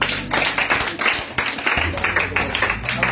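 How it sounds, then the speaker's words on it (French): A church congregation at a Friday evening worship service claps loudly in a fast, steady rhythm, many hands together, nearby and continuous for a few seconds. "Acclamez bien. Acclame bien le Seigneur."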